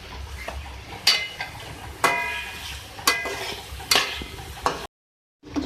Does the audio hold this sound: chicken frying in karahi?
yes